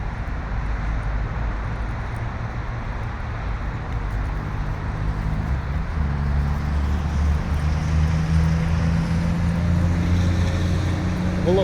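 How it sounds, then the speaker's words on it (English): Steady, loud roar of city traffic from a highway and passing cars, heard through a phone during a vlog-style walk, with low rumbling and wind-like buffeting throughout. "lots of city noise, highway, car"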